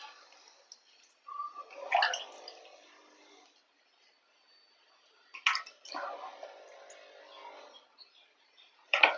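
Brinjal being rinsed with water in a sieve in a home kitchen: intermittent splashing, squishing and dripping bursts close by, separated by quiet gaps, with no talk.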